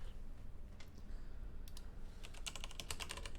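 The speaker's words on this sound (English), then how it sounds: "when I type on the keyboard" Keys rattle on a computer keyboard set at the edge of a table, at first in soft scattered taps and then in a quicker close run of clicks near the end.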